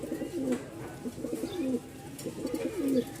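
Pigeons kept in a loft coo in repeated low, throaty phrases at close range, several soft calls overlapping in a steady rhythm.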